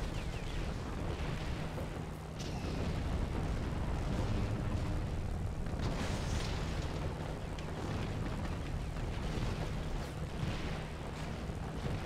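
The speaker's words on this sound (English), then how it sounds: "Go ahead and destroy this Stuka" Stukas are shot down in the aerial combat game Secret Weapons Over Normandy amid a dense, unbroken roar of engines and blasts that stays loud throughout, with no speech.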